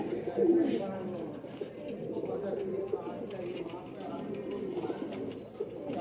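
A pigeon kept by a fancier coos softly at close range, mixed with other birds and someone talking over it.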